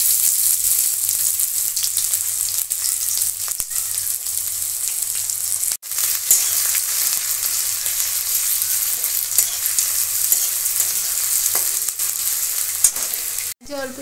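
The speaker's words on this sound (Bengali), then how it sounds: "এবার আমি দিয়ে দিচ্ছি পেঁয়াজ।" Sliced onion tipped into a hot pan for egg dhoka, frying with a loud continuous sizzle and occasional scraping stirs, one sharp clatter near the end.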